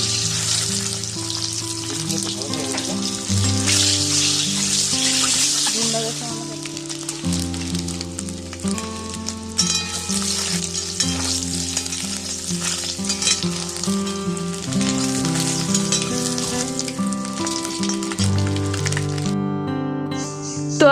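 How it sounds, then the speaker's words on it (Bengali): Peeled boiled eggs fry in a wok of hot oil with salt and turmeric, giving a continuous crackling sizzle under steady background music. "কড়াইয়ে লবণ হলুদ দিয়ে আমি ডিমগুলো দিয়ে"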